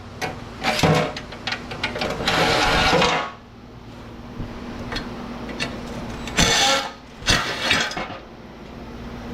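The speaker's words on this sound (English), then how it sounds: "What I'll do is we'll just go as far as we can with the nut driver" A power nut driver strips fasteners from scrap metal, with short bursts of whirring and a longer buzzing run, then a pause and more quick bursts, plus metallic clinks and rattles in between.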